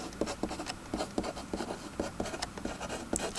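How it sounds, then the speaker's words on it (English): Pen or marker strokes on a surface as a goal is written down during a logic proof, a quick series of short scratchy strokes close up, with no talking. "So write my goal down the bottom."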